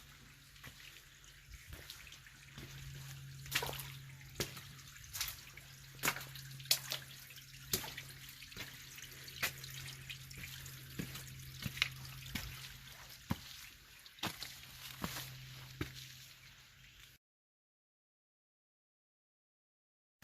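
Shallow creek water trickling and babbling over the trail at Turkey Run State Park, Indiana, a soft steady flow with scattered small splashes and clicks, quiet and close, ending in silence.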